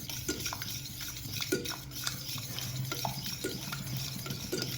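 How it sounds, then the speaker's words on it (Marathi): Cooked urad dal is mashed in a metal pot, making repeated rhythmic scraping knocks of the utensil against the pot, close and steady, with no voices. "आपण आता ह्याला हे घोटून घेतलेले आहे"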